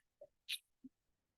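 A single sharp human sneeze during an online webinar, preceded by a short intake of breath and followed by a brief vocal catch, close to the microphone in an otherwise quiet room.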